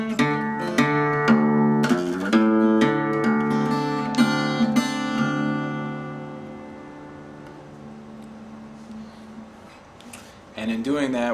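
An acoustic guitar blues lick, a run of plucked notes ringing into a long sustained fade before a final strum.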